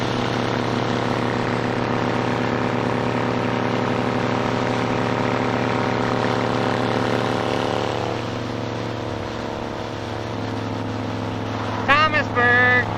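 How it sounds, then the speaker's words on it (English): Steady roaring rush of wind and engine drone while riding a Honda VTX 1300 motorcycle at road speed, loud and continuous throughout, easing slightly partway, with a brief higher whine near the end. "Seems like it might be a windy day out today"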